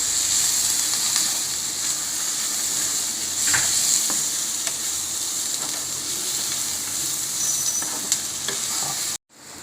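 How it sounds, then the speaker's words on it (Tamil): Shallots, ginger, garlic, green and dried chillies, chana dal and urad dal sautéing in oil in a pan, a continuous close sizzle with occasional stirring scrapes, ending in a brief cut near the end. "சின்ன வெங்காயம், கொஞ்சோண்டு இஞ்சி பூண்டு, பச்சை மிளகா ஒரு 3, காஞ்ச மிளகா ஒரு 5, கடலைப்பருப்பு உளுந்தம்பருப்பு எல்லாம் போட்டு வதக்கி வச்சு"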